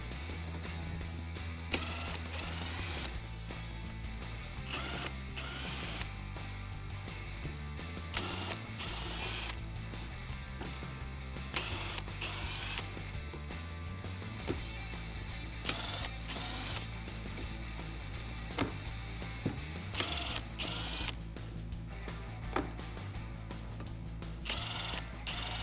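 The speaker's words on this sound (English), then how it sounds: "we're going to remove the 4 screws at the back of each fog light. You can do this with a Phillips head socket" A ratchet with a Phillips head socket clicks steadily while backing out the fog light screws on a Jeep Wrangler JK factory front bumper, with a tonal hum running underneath.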